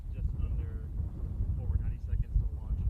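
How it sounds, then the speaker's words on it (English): Strong wind buffets the microphone at a Falcon Heavy rocket launch press site, a constant loud low rumble with gusty surges throughout, while faint voices sit underneath. "but you can hear the wind. It is very windy."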